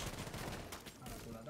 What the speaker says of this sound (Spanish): Vamos a tirar tiros.